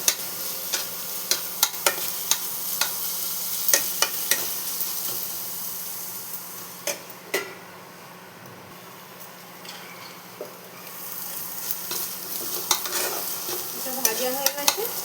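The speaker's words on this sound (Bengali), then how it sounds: "এটাও ভালো মতো ভাজতে হবে" Ginger garlic paste frying with onion in a pan for a taro (kochu) curry, a steady close sizzle broken by repeated clinks and scrapes of a spoon stirring, continuous throughout with no talk.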